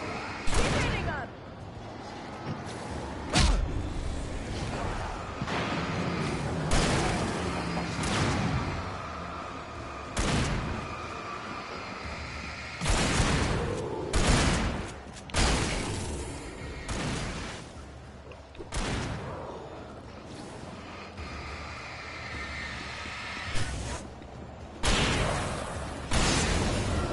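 Gunfire rings out in the Alan Wake Remastered video game as loud, sharp shots crack at irregular intervals, some in quick bunches, over a busy background of action noise.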